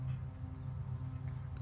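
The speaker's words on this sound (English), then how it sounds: "I apologize now at the end for crickets chirping." Crickets chirp steadily in a continuous high trill, moderately close and alone, with a low hum running underneath throughout.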